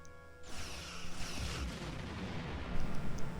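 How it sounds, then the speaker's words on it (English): In the Star Trek Online video game, a ship opens fire with all weapons: a sudden heavy burst of rumbling blasts rolls into a sustained, loud barrage lasting several seconds. "Target that ship and fire all weapons."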